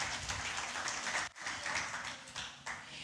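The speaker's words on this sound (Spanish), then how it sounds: "Un aplauso a los actores." An audience at a church service applauds a group of actors, giving a dense, continuous burst of many hands clapping with a brief dip in the middle, moderately distant and without talk.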